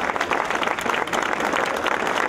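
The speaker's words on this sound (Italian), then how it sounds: "grande applauso grazie applauso" Audience applause for Schumacher at the Confartigianato Motori award ceremony, loud, close clapping from a full crowd, continuous and even across the short stretch, with no voices.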